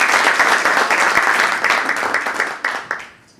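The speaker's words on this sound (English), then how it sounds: "Let's give her a round of applause." An audience applauds a panelist at a Harlem startup event, with a full, lively round of clapping that tapers off and fades out near the end.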